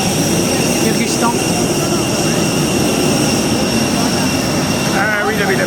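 Steady, loud roar of a passenger jet engine inside an aircraft bound for Kyrgyzstan, a continuous broadband drone with high whining tones, holding evenly throughout while a voice speaks faintly beneath it.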